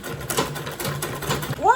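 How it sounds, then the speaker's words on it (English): A sewing machine stitching Ankara fabric on a zippered, lined make-up bag: a brief close burst of rapid mechanical pulsing under a person talking. "I'm sewing on that stitch I use in sewing the Ankara to the wording."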